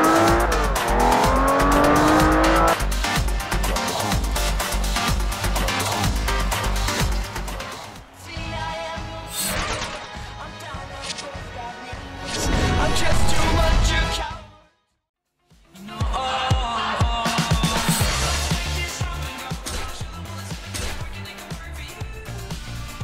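In the Forza Horizon racing game, a car roars at full throttle with squealing, skidding tyres and revving engine, loud and continuous, cutting out briefly for a moment of silence before the racing noise resumes.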